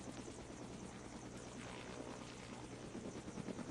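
Helicopter rotor and engine drone steadily throughout in a Roblox game, a loud, continuous thrumming with no talk over it.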